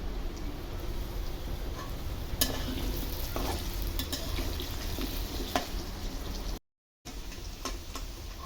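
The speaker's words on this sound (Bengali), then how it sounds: "আলু ভাজতেছি লাল লাল করে" Potatoes fry in oil with orange food colouring for beef biryani, producing a dense close sizzle with occasional ticks and spatula stirs, briefly cutting out near the end.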